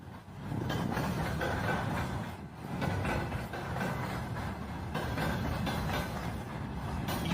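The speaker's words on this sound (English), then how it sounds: "here's video footage today showing T-62s being dragged into Ukraine on a rail car" Train rail cars carrying T-62 tanks rolling on a railroad near Ukraine, a steady loud rumble of wheels and clattering wagons going on throughout without pause.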